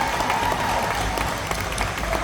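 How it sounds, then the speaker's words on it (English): Crowd at the Florida State Fair applauding the Navy Ceremonial Band, a short burst of dense clapping over a faint steady tone and low crowd rumble, fairly loud and even. "Round of applause, yes"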